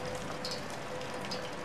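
Steady rainfall in the video game Shadows Over Loathing, a dense, even hiss of drops pattering on surfaces, constant and fairly close with no voices over it.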